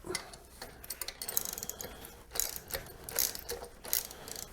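A wrench tightens a nut on a Kohler 5E generator, giving quiet metallic ratcheting clicks and light clanks in short irregular bursts, close up with no voices.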